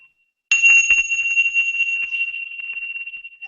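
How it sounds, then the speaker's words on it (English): A computer timer's audio bell strikes once, sharp and loud, then rings on in a clear, sustained tone that slowly fades. "then it's an audio bell. It'll ring through your computer like this."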